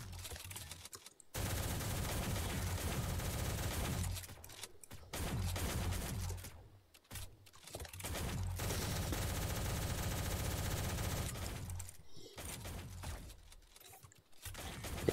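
Sustained automatic gunfire in the Shell Shockers shooter game lays down cover fire in long, loud, continuous bursts separated by short pauses, close by with no talk over it.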